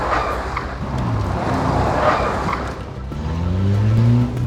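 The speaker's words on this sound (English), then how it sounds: "The first challenge is to do a handbrake skid right in front of the live stream." A car performs a handbrake skid and attempts a 180-degree spin, giving a continuous loud rush of engine and tire noise with rising tonal whines toward the end, close by and without talk.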